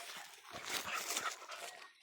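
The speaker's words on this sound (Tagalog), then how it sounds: "Kulit itong mga aso na to." Several dogs in a Philippine outdoor setting, bursts of high-pitched yelps, whines and scuffling across two seconds, fairly close and busy with no clear talk.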